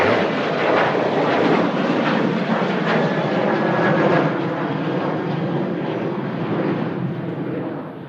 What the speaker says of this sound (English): Ryanair blasting out on the way out to Dublin